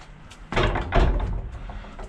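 A locked door in an abandoned railway station is tried, giving a sudden rattling thud and clatter of the door against its frame, fairly close, then fading into a quiet room.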